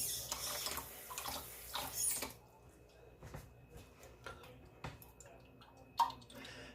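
Water pours and splashes into a pot of enchilada sauce for chicken enchiladas, a quiet wet rush at the start that gives way to faint drips and small knocks in a kitchen.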